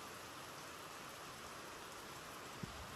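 Steady rain hisses continuously, faint and even, with no other sounds standing out.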